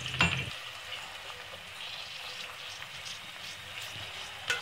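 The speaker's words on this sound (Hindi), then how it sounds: "ऑयल में हम इसे डालकर फ्राई करेंगे।" Chopped onions frying in oil, a dense, even hiss of sizzling close up, opening and closing with a brief clatter and otherwise steady with no talking.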